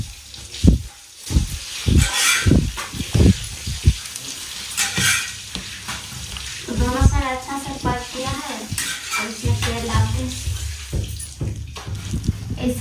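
A roti cooks on a pan with oil, sizzling and frying, while the pan is knocked and turned with a series of sharp, close scrapes and clatters. Faint kitchen background sound fills the gaps.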